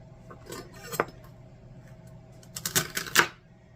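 A knife chops celery on a cutting board for a simple five-ingredient casserole, giving a few scattered sharp taps and then a quick cluster of close, crisp cuts near the end.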